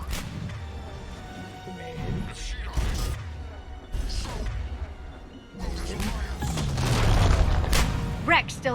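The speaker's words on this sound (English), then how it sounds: "Grenade again." A grenade goes off in the video game Mass Effect 3, a few heavy booms and crashes spread among game combat noise, with a deep rumbling blast building toward the end.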